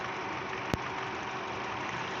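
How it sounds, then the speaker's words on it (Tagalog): A Toyota Vios Gen 2 engine with a hard-starting fault idles with a spark plug wire pulled, giving a steady, dense mechanical drone broken by one brief sharp click, with no talking. "Basta itong nanginginig yung makina pag binunot, buo yan."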